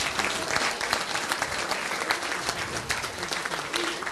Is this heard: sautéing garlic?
no